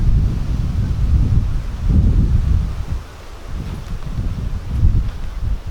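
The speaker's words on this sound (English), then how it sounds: "Wind's blowing in." Wind gusts over a garden row cover tunnel on PEX hoops, a loud, blustery low rumble that surges and eases in waves with no voices heard.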